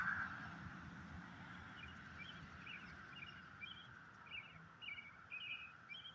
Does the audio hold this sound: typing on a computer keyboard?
no